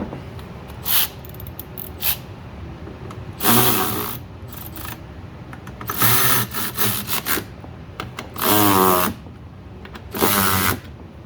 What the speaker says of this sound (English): now you're gonna tighten them up